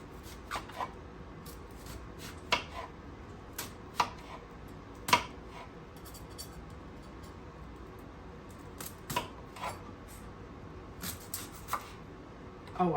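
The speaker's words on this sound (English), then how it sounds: "that's why I go ahead and start chopping" A knife chops food on a cutting board for a healthy chicken dinner side dish, giving irregular light taps and cuts, close but fairly soft, some in quick clusters and others spaced apart.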